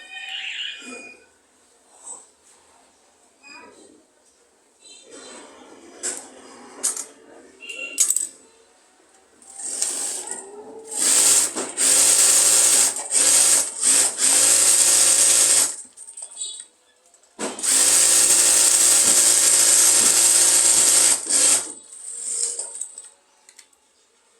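A sewing machine stitches palazzo pants in a tailoring shop in two long steady whirring runs with short start-stop bursts and clicks before them. Someone talks during the quieter stretch.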